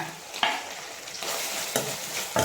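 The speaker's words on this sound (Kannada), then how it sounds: "ಇದನ್ನು ಫ್ರೈ ಮಾಡಿ ಫಾಸ್ಟ್ ಇಡಿ ಫ್ಲೇಮ್" Two tomatoes fry over a high flame in a pan for egg gravy, giving a steady close hiss broken by a few sharp spatula scrapes as they are stirred.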